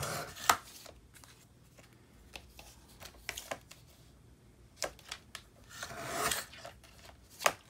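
Paper being trimmed for a handmade Easter card, giving a run of crisp snips and rasping cuts spread irregularly across the clip, close and fairly quiet with no talking.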